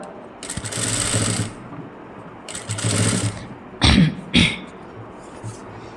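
Sewing machine stitching blouse fabric in two bursts of rapid mechanical whirring with pauses between, followed by a couple of short sharp knocks or handling sounds.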